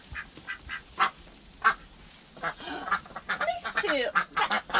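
Ducks quacking at bath time around a paddling pool, a run of short nasal calls that thickens into an overlapping, busier chatter toward the end, fairly close, with a person talking now and then.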